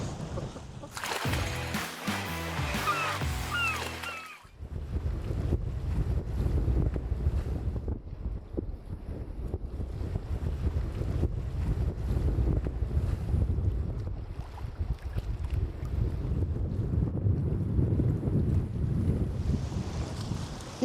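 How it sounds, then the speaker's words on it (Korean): Gale-force wind roars and buffets the microphone on a small fishing boat out on rough sea off Jukdo, a loud, unbroken rush with waves underneath after a brief burst of clattering noise at the start. "이 바람 진짜 미쳤는데,"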